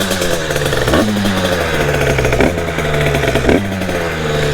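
Derbi Racing moped with an 80cc engine, close and loud, buzzing as it runs and revving in three sharp pulses, each climbing and falling back, with a rough two-stroke rasp throughout and no talk.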